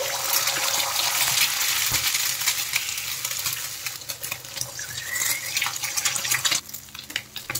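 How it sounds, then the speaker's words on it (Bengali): Eggs cracked into hot refined oil in a wok, cooking for noodles, give off a loud, steady, close sizzle and crackle that eases slightly toward the end. "ডিম ভেঙে তেলে দিয়ে দিচ্ছি।"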